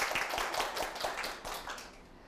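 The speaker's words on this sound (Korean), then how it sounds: "박수 한번 부탁드릴게요." Studio audience at a Korean lecture show applauding, a dense wash of many hands clapping together, steady and fairly loud before gradually thinning out near the end.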